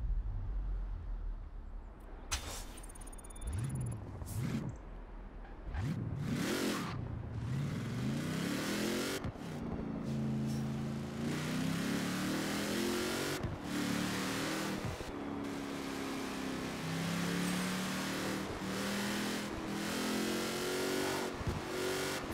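Car engines in the video game Forza Horizon 4 rev and race through a snowy course, rising and falling as gears shift, with a few sharp bumps and a steady whine throughout, fairly quiet overall.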